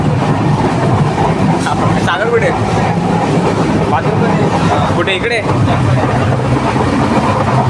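Inside a moving passenger train on a trip to Ratnagiri, a loud continuous rumble with rattling carriage noise runs throughout while people talk nearby.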